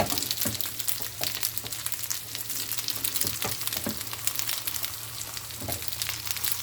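Pasta börek frying in an oiled pan, a steady dense crackle and sizzle with scattered pops, close and even throughout with no voices.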